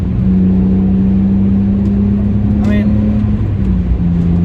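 A BMW E46 fitted with a cold air intake drones with a steady, loud engine tone heard from inside, holding its pitch with a slight dip near the end while someone talks over it.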